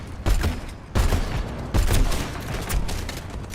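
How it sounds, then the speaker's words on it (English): Grenades explode in rapid succession during a competitive Overwatch 2 match, with four sharp, loud blasts spaced under a second apart. Each blast trails into crackling debris noise. "lots of nades coming through here."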